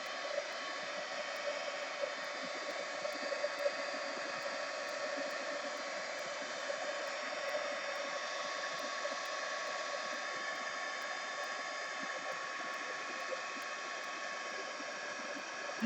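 Steady, even whoosh of a hair dryer blowing to dry paint on an art journal page, close and constant for the whole stretch, with no voices.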